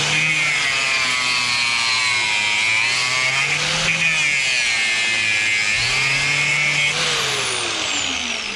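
An angle grinder cuts copper off small scrap pieces, a loud continuous high whine that wavers in pitch as the disc bites into the metal, with no talking over it.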